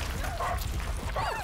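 A puppy in A Plague Tale: Innocence whimpers and yelps in short, high, wavering cries, close and fairly clear over a low rumbling game ambience, with no talking over it.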